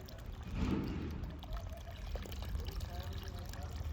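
Water from a pipe is poured over a baby during a wash outdoors, a continuous nearby splashing and trickling stream that runs under people talking.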